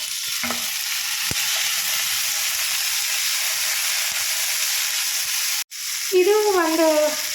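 Tomato frying with onions in a pan for mushroom gravy, giving a loud, continuous hissing sizzle close by; a brief clatter comes near the end, followed by a short tonal sound, and no one speaks.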